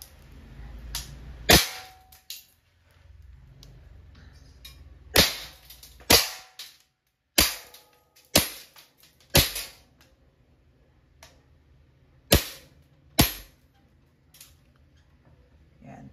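A Walther PPK/S airgun pistol fires about nine sharp, loud cracking shots at a bottle, spaced irregularly with short quiet gaps between them and faint background murmur.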